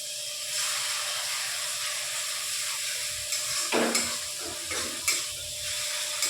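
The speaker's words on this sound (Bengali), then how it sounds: "এবার মশলাটা তেলের মধ্যে নাড়া হয়ে গেছে" Spice paste stirred in hot oil in a pan during a soybean curry, a steady close sizzle and hiss with a few louder scraping stirs toward the end and no talking.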